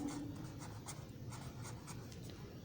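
Marker or chalk writing out a subtraction word problem on a board during a class 4 maths lecture, a soft continuous scratching with faint rhythmic strokes, quiet and close, with no talking.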